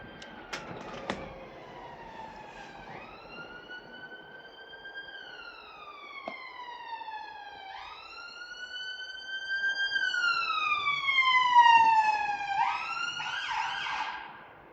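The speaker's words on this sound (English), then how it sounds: "You don't need to put the fucking bastard siren on when there's nobody there." An ambulance siren wails through repeated rising and falling sweeps. It starts moderately distant, grows louder as the vehicle approaches and passes, then fades, with faint street noise underneath and no speech.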